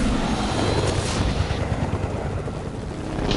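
Helicopter in the Fortnite video game gives off a continuous close rotor and engine drone, with a brief swell near the end and no talk over it.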